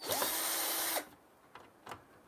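A cordless electric drill fitted with a Phillips bit runs in one steady, loud whir for about a second while driving screws on a stadium floodlight, then stops, leaving faint clicks and handling noises.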